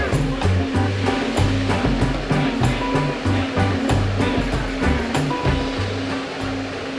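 Small pneumatic air piston repeatedly pushing a lever on a test rig in a damper factory, fast regular hissing pulses with mechanical clunks, loud and steady throughout.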